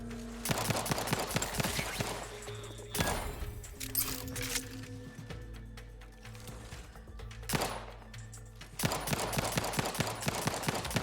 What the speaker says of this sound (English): I need the rapid fire here